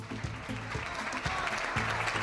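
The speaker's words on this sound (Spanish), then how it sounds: "El Consejo de Ministros ha recibido esta mañana así al presidente del Gobierno en un mar de aplausos" Ministers of the Spanish Council of Ministers applauding the prime minister, a dense, steady patter of many hands clapping in a room, continuous and moderately close throughout the short burst.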